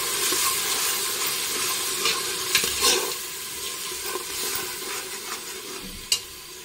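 Meat for nalli nihari fries in a pan with a steady, dense sizzle while a spoon scrapes and stirs, giving occasional clacks and knocks against the metal.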